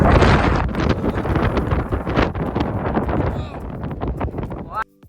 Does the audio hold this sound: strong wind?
yes